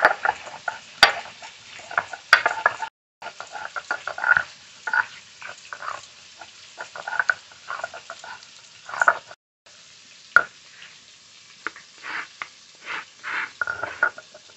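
Ginger and spices ground with water on a grinding stone make repeated rhythmic scraping and rubbing strokes, moderately close, in short bursts with brief pauses between them.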